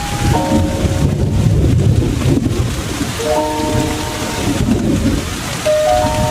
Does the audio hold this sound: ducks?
no